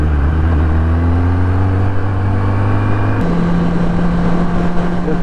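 Engine of a 2018 Kawasaki ZX10R liter-class sport motorcycle, loud and close, holding a steady droning idle with a slight pitch shift partway through, no talk.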